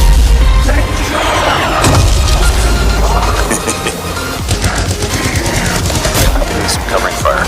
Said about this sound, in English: Time to use that mortar.